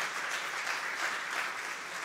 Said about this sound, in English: Give the Lord a praise clap